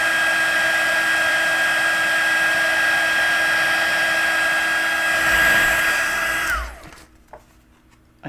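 A heat gun blows a steady, loud whirring hiss while heat embossing a handmade card, running continuously before cutting off abruptly near the end and leaving near silence.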